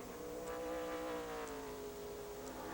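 A NASCAR Southwest Tour stock car at Sears Point powers out of a corner, its engine droning and climbing in pitch at a distance, faint and continuous with no talk over it.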